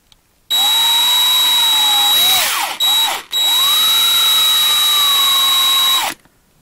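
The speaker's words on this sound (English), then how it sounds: "I gotta be real careful not to drill through the plastic too much." A power drill drills into plastic, whining loudly at a steady pitch, briefly dipping and stuttering mid-way, then spinning up again and running until it stops abruptly.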